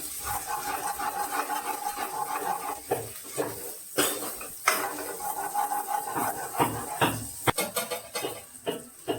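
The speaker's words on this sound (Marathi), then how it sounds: "हे सर्व चांगले मिक्स करून घेऊ" Spices, masala and chili powder, are stirred into a pot with a spoon, making repeated scraping and clinking strokes up close, uneven in rhythm, for a village-style chicken curry.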